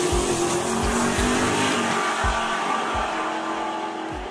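A drag race between a Chevrolet Camaro and a Cadillac, with loud engines revving hard in repeated rising bursts as the cars accelerate and shift, plus some tire noise, close by and with no voices.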